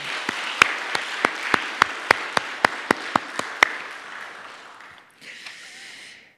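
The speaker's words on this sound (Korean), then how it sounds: "영광의 박수 올려드리겠습니다." A church congregation at a Sunday worship service gives a round of applause, heard as a dozen or so distinct sharp claps at a steady rhythm over a soft crowd wash that fades, followed by a brief quieter murmur.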